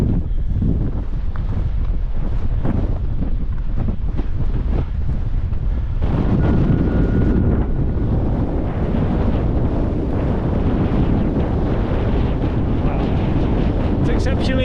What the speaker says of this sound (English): Exceptionally windy